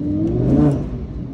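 Loud car engine idling and revving up just after being started in an outdoor parking lot on a sunny day, a steady low mechanical drone that swells briefly in the middle, with no voices.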